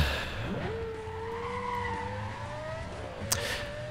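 Porsche Carrera GT in Need For Speed Most Wanted, tires squealing in one long rising skid over steady engine drone, ending in a sharp bump, loud and close with no speech.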